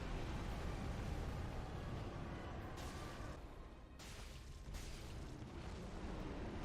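Midir the dragon's sweeping fire breath in a video game roars as a dense, continuous rush of flame, loud and sustained, with brief brighter surges partway through.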